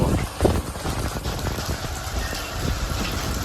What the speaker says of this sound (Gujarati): વરસાદ મિત્રો જોરદાર અટાણાથી ચાલુ હતો હજી એ છે જ